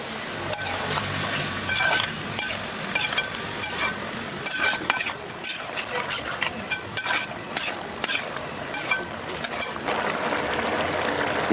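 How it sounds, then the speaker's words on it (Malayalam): Tamarind water is poured into a hot, sizzling pan of Kerala-style sadya sambar, giving a close, crackling fry-and-bubble sound with stirring clatter throughout. "ആ പുളിവെള്ളം അങ്ങോട്ട് ഒഴിച്ചു കൊടുക്കാം."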